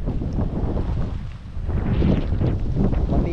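Strong wind buffets the microphone in rough, roaring gusts, swelling louder in the second half with no talking.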